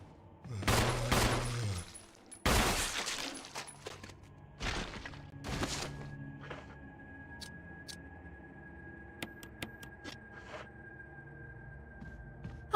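Gunfire in the video game Resident Evil HD: a few loud, sharp shots early on, each with a decaying tail, followed by quieter ticking and tonal game effects; no talking.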